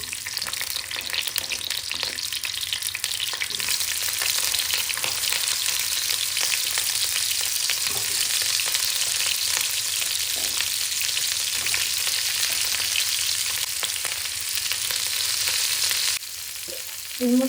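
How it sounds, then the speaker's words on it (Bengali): Cauliflower, whole unpeeled potatoes and carrots fry in mustard oil with a continuous, close, crackling sizzle and occasional stirring scrapes, running steadily throughout. "সবজিগুলো ভাজার জন্য সর্ষের তেল দিয়ে দিলাম"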